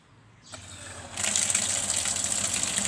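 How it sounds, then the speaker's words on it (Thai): Sharp washing machine tub filling with water: a faint hum, a click, then a strong steady gush of incoming water that starts abruptly and continues, close and without talk. "มันก็จะปล่อยน้ำเข้าถังเลยนะครับดูนะครับ"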